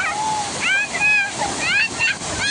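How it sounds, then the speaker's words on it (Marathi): Water rushes loudly and steadily as it pours and splashes down the spillway of Kalamba Lake in Kolhapur, with a person talking over the roar. "तलाव पूर्ण क्षमतेने भरून या सांडव्यातून पाणी पडत आहे"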